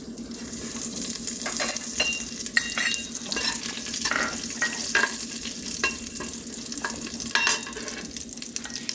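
Cinnamon, cloves, cardamom and fennel seeds fry in hot ghee, crackling and sizzling continuously up close, with scattered sharp pops and spoon-against-pan stirring clinks throughout.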